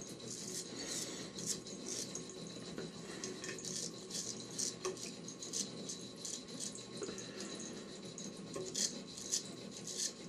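A straight razor scrapes in quick, very light against-the-grain strokes across stubble on the chin, producing a close, soft, continuous rasping texture with no talking.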